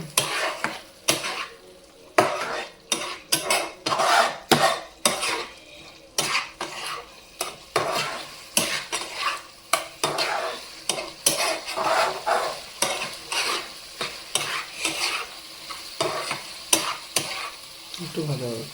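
Masala frying for a rohu fish curry, with oil sizzling steadily under repeated scraping and clattering of a metal spoon stirring in the pan, close and irregular throughout; no voices.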